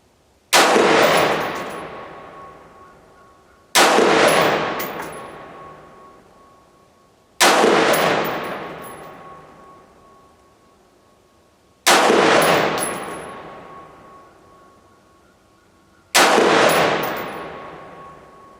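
AR-15 rifle with a BCA side-charging upper fired at a range, five sharp loud shots spaced about four seconds apart, each a hard crack followed by a ringing decay, with no talk.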